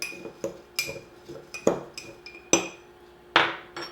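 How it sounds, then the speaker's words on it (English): Metal spoon clinking and scraping inside a glass jar while stirring overnight oats with cinnamon, a series of sharp close taps and rattles at an uneven rhythm with no talking. "And I'm going to come in here and just give those a good mix."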